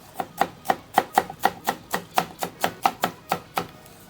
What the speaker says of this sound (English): 2 green onion stems finely chopped.